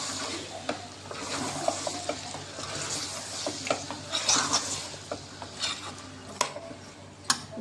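Potato and capsicum curry stirred in a sizzling pan: steady frying hiss close by, with repeated scrapes and taps of the spoon against the metal.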